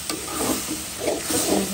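Eggplant frying in a pan with tomato-garlic paste, turmeric, chili and coriander, a soft sizzle broken by a few scraping stirs of the spatula, close and fairly loud.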